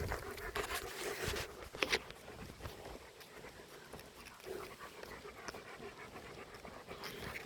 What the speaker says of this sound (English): Dogs communicate by talking and by barking and growling and grunting and whatever other noise they want to do